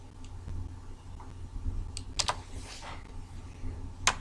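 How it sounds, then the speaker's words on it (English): Computer keyboard keys and spacebar being pressed, a few faint, sparse clicks over quiet room hum. "I'm going to hit spacebar, get back into this again."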